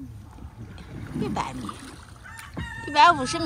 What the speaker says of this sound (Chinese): 哦，听到我们家的鸡叫了